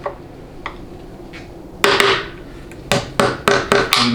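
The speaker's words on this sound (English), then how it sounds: "And you can grab a hammer." A hammer taps screwdrivers wedged against the connector tabs of a Ford 6R140 transmission case during teardown, giving a faint early knock, then one loud sharp strike followed by a quick run of four or five close metallic hits.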